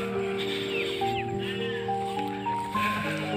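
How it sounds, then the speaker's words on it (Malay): Goats in a breeding pen bleat in a few short, wavering cries over a steady background hum, fairly close and moderately loud. "Dia bising kambing tu."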